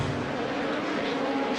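Pro buggy off-road race cars at high altitude in a Utah motor park, a steady, loud engine roar with no breaks, close and continuous.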